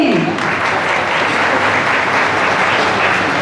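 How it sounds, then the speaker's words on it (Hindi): An audience at the Paryavaran Shree 2016 environmental award ceremony claps loudly and steadily, a dense wash of applause that fills the room throughout. "पीछे तक तालियां बजनी चाहिए।"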